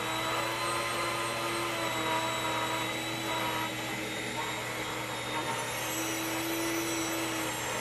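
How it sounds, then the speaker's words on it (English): An electric wheat grinder, used alongside a Bosch Universal Plus mixer for bread making, runs with a steady loud whirring drone for about eight seconds, holding an even pitch with no clear talk. "as you turn this farther to the right, what that basically does with this grinder is it speeds up or slows down the airflow"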